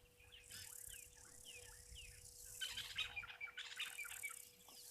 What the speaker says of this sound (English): lots of birds calling here constantly